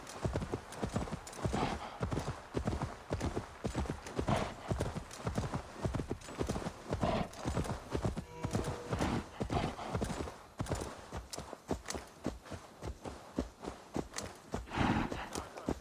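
Horse hooves galloping in the video game Assassin's Creed Valhalla, a fast, rhythmic clip-clop close up and continuous, with occasional whinnies and faint talk in the background.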